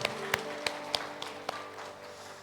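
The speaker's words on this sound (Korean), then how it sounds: "우리 주님께 영광의 박수 올려드립니다." Congregation in a church service clapping along, sparse sharp claps at a steady rhythm over a quiet, humming room, faint and somewhat distant.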